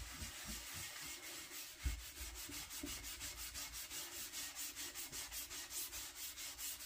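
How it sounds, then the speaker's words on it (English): The green side of a 3M scouring pad with Bar Keepers Friend scrubs a surface in quick, rhythmic back-and-forth strokes, a soft close rasping that repeats steadily, with no talk. "So let's give this a scrub. I'm going to use the green side of our 3M pad."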